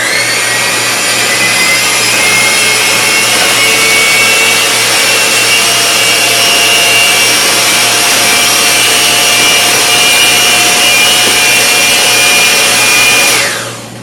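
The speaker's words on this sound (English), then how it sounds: "I'm going to use my mixer to actually blend this a little better" An electric mixer blends lemon meringue pie filling with a loud, steady motor whine and a grinding rub. It runs continuously and stops abruptly at the end.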